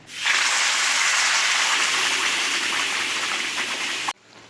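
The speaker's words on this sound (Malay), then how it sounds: "Okey, siap kisar, Cik Okey akan tumiskan." Blended spice paste, ground with oil, sizzles hard in hot oil for chicken curry, a loud continuous frying hiss that starts abruptly and cuts off sharply about four seconds later.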